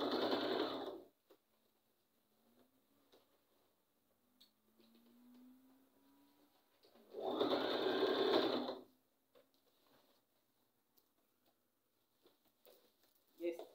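Sewing machine stitches a double-sided bonnet in two short bursts of rapid mechanical chatter, close and clear, separated by a quiet stretch with faint handling noises.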